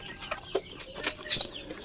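Polish hens cluck softly in short, scattered calls, with one brighter squawk near the end; the scene is otherwise quiet.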